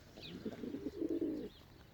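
Pigeons in a garden loft give a soft, low cooing phrase that swells for about a second at moderate loudness, with faint chirps above and no talking.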